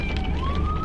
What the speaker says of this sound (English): Also, ambulance or something, y'all.